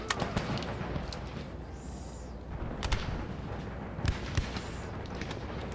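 Distant, muffled volleys of Puckle gun fire in Empire: Total War with Darthmod pop irregularly across a busy battlefield ambience, with occasional thuds and faint whistling effects.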